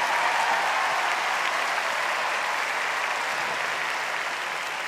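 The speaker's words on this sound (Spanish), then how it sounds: "Un aplauso para las chicas lindas que han venido" Audience at a diocesan catechists' gathering breaks into sustained applause, a dense wash of clapping that holds steady for about five seconds, loud and close, with no talking over it.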